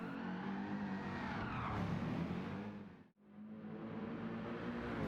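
AMG Vision Gran Turismo race car in Gran Turismo 7, a loud continuous engine roar with tire squeal that briefly cuts out to near silence before the engine note returns.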